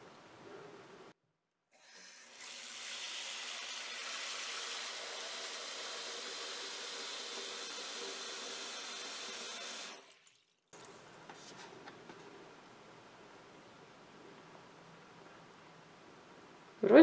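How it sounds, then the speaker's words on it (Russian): Water runs from a sink tap onto a universal WIRQUIN sink plug, a steady rushing hiss for several seconds that then cuts off, followed by faint handling sounds and a sudden loud knock at the end. "Включаем водичку."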